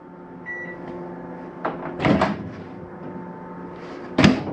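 An RV microwave door in a 2023 inTech OVR Navigate trailer clicks open and thumps shut twice, with a brief electronic beep at the start over a low steady hum.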